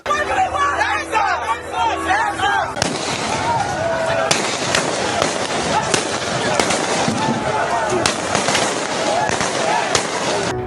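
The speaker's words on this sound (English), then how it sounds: "Sounds of gunfire have exploded on the streets in Nigeria's commercial capital" Rapid bursts of gunshot-like cracks and pops ring out over a noisy outdoor street scene in Lagos, Nigeria, during protests, following a moment of crowd chatter and voices.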